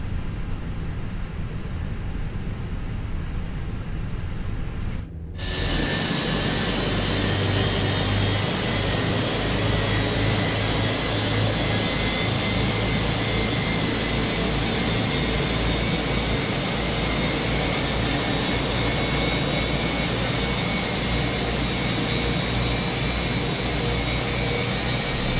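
Airliner jet engines spool up in Microsoft Flight Simulator 2020: a quieter hum, then an abrupt jump after about five seconds into a loud, sustained roar with a steady high whine that holds for twenty seconds.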